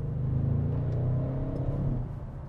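A 2020 Audi RS6 Avant C8 with 600 hp accelerates, heard from the cabin as a steady, deep engine rumble and whir that holds strong, then eases slightly near the end.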